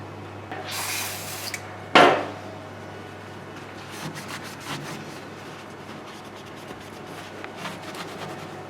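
A cloth rag with label remover scrubs out the groove that holds the cutting strip of an LC600, giving soft rubbing strokes after a sharp knock near the start, close and steady with no talk.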